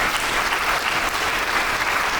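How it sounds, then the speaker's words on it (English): An audience at an investor awareness session claps after a speech, steady dense applause throughout the short stretch. "A bigger round of applause, please."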